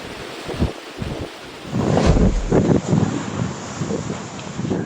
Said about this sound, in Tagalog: sumisipol ang malaipo-ipong lakas ng hangin.